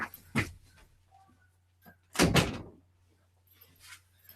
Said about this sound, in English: the cat just opened the door